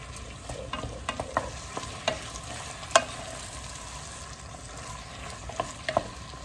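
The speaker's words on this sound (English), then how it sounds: "Just getting all that beef cooked." Finely ground beef browning for chili in a pan, a steady low sizzle with scattered clicks and taps of a utensil stirring, close and moderately quiet, with no talking.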